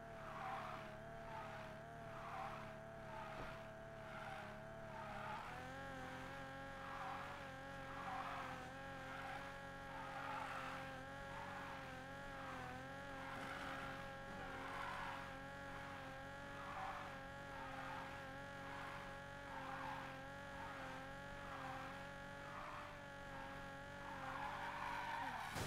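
A car in Need For Speed Payback drifts with its tires skidding and squealing over a loud, droning engine that runs continuously, its pitch wavering as the car slides.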